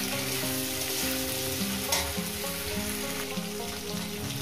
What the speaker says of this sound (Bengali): আলু আর ঢেঁড়সটাকে আমার সুন্দর করে বন্ধুরা ভেজে নিয়েছি।